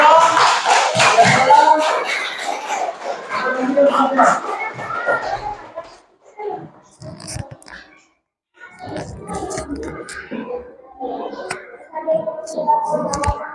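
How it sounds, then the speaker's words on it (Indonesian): Classroom audience clapping for a presenting student group during a teacher-training lesson, a short burst of hands clapping mixed with children's chatter, then a pause and ongoing talk and movement from students. "tepuk tangan untuk kelompok 3"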